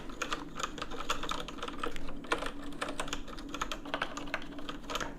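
Steady, fast typing on an ergonomic computer keyboard, a spare board, with dense clustered keystroke clicks running throughout at close range and no voices.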